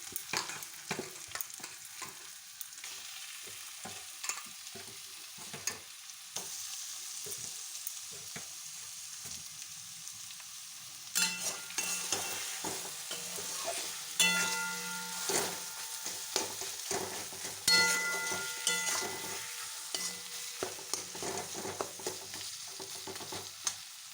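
Mashed potato is tipped into a hot oiled pan and stir-fried for a chili chop filling, with a soft sizzle beneath repeated scraping and tapping of a spatula that grows busier midway.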